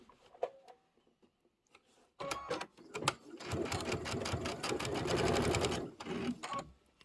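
A sewing machine stitches fabric on a Kimberbell quilted bench pillow, running after a corner turn: a few faint ticks, then a loud, steady, close-up motor whir that continues to the end.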